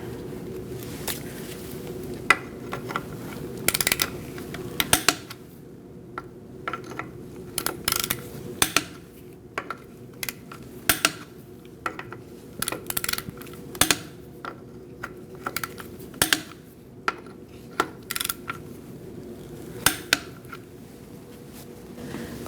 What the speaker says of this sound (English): We're going to torque our wheel to 103 foot-pounds. You're going to do that in a crisscross manner.